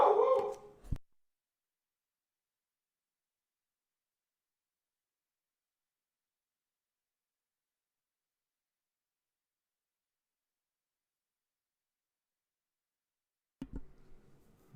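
An indoor dog barks in a short burst, then there is a long stretch of silence before a brief second outburst near the end.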